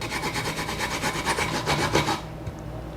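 A whole Korean pear being grated by hand, a steady rhythmic rasping scrape repeating in quick strokes close up, stopping abruptly near the end with no talking.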